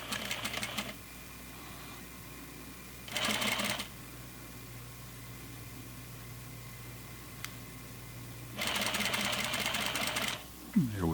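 A sewing machine stitches a flannel pajama pants crotch seam over basting stitches, running in three short, rapid bursts separated by quiet pauses, close but soft.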